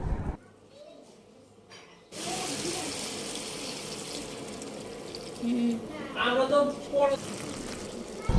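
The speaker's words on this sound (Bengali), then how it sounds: "ডালের জন্য আরও কিছুটা পানি দিয়ে দেবো" Water runs from a tap in a steady stream into a pot of mung dal for most of the clip, with brief clinks and background speech partway through.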